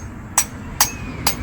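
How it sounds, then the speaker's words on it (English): Three sharp metallic hammer strikes land at an even pace, each a bright ringing clang over a quiet background hum, hammering out a sheared bolt during a 6.6L Trans Am engine teardown. "hammer that bolt out."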